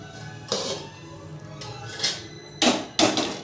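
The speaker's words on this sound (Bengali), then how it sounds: "কড়াই বসিয়ে দিলাম।" A wok set onto a gas stove, giving a few metallic clanks and knocks at irregular intervals, nearby and moderately loud, with two sharper clinks close together near the end and no talk.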